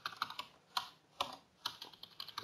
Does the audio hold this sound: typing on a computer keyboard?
yes